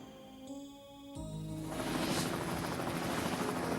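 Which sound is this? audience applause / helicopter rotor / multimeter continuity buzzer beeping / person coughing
helicopter rotor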